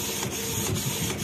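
A Canon IP2770 inkjet printer runs a print of glossy vinyl sticker, its steady mechanical whirr and feed noise filling the short stretch with faint periodic clicks, no voices.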